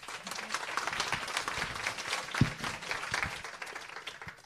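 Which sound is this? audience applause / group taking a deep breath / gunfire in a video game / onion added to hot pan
audience applause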